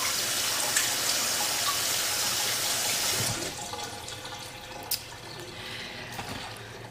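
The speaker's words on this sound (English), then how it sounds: "I usually just take some a little bit of cold water and finish it off in the sink." Cold water runs from a tap into a sink to cool a finished ceramic mug, a loud, steady rush for about three seconds. It then drops to quieter trickling and dripping, with one sharp knock near the end.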